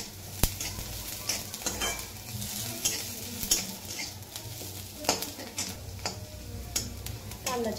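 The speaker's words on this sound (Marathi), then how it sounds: "कांदा छान भाजत आलाय आपला" Onion fries in a pan for a paneer curry, with a steady sizzle under repeated scraping strokes and clinks of a spatula against the pan, close up and with no talk.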